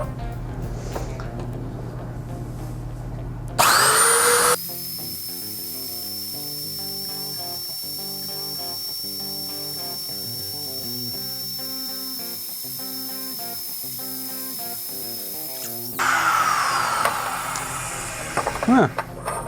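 A pipe cutting machine grinds through thick Schedule 80 stainless steel pipe with a sustained high metallic whine and rhythmic grinding, starting abruptly and running for about twelve seconds before winding down.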